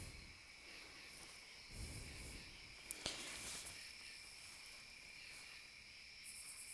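Crickets chirp steadily in the countryside at night, a continuous high, faint trilling chorus at a distance, with a soft rustle and a couple of brief clicks near the middle.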